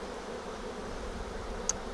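Honey bee drones buzz steadily inside a hive, a dense low hum that stays even throughout with no talking, broken only by a brief faint click near the end.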